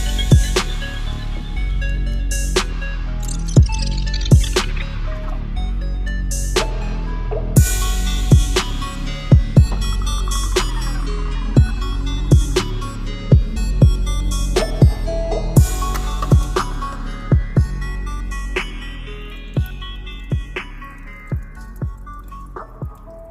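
A garden hose flushing water through a car heater core makes steady running water, punctuated by sharp, irregular drips and splashes that recur throughout, close by with no talking.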